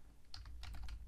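Keys clack in short bursts on a computer keyboard, close and fairly quiet, over a steady low room hum.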